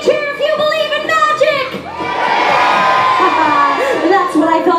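A crowd of children cheers and shouts loudly at a magic show, a sustained burst of excited whoops and high voices rising after a brief lull, with an adult voice heard at the start.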